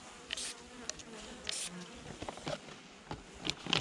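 Honey bees in a hive during oxalic acid treatment, a steady low buzzing hum with scattered brief louder passes and faint rustling, no talk.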